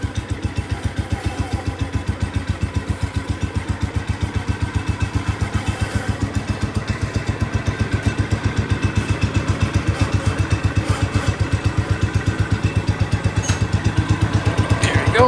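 A Cub Cadet 105 lawn tractor engine runs steadily close by, a loud rapid chugging idle with clattering pulses that holds an even rhythm throughout.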